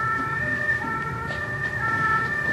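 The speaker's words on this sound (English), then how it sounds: "There's a siren wailing up the riverfront." A siren wails on a steady held tone with a low rumble of traffic beneath it, a constant loud drone heard along a riverfront.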